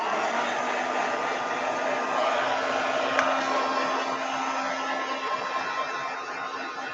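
A hair dryer blows steadily on an art journal page, a continuous loud broadband whoosh with a faint motor hum, holding even for the whole stretch with no talking.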